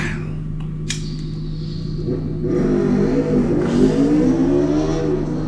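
A car in a film scene speeds along, its engine rising into a climbing, accelerating rev over a steady low drone, loud and close, with a brief sharp noise near the start.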